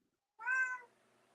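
A single clear cat meow rises out of silence, close and mid-loud, lasting about half a second before trailing off into faint background.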